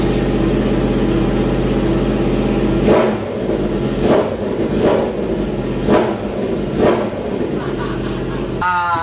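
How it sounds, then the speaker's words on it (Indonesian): Kawasaki H2 police motorcycle with an aftermarket ECU, settling at a steady idle before four sharp throttle blips ring out in a regular rhythm, each one rising and falling back, close and loud throughout. "Ini suaranya lagi langsam. Kita coba gas dulu."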